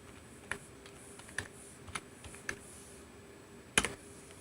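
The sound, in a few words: typing on an Xtreme Bluetooth keyboard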